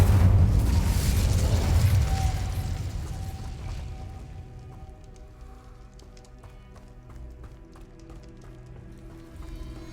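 Incendio fire spell in Hogwarts Legacy, a loud roaring whoosh of flame and rumble at the start that fades over a few seconds into quieter crackles and scattered clicks.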